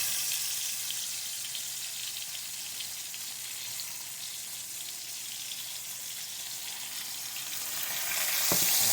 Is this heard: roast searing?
yes